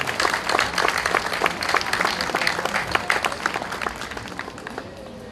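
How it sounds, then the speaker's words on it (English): A crowd claps loudly at a Day of Portugal opening ceremony, dense applause that holds steady for several seconds before gradually thinning toward the end. "big round of applause for them."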